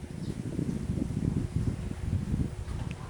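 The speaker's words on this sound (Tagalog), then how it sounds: "So kusog ang hangin karon guys." Strong wind blowing outdoors, a steady low rumbling roar buffeting the microphone with gusty fluctuations and no pauses.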